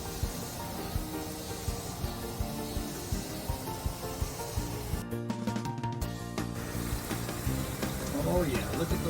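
Eggs frying in a pan give a steady, quiet sizzle with soft crackles and pops throughout, with a brief dip partway through.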